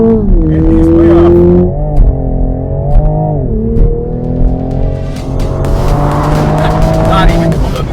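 2021 Toyota Supra six-cylinder and four-cylinder cars accelerate side by side in a drag race, engines roaring and climbing through the gears with shift dips, loud and continuous, with faint voices underneath.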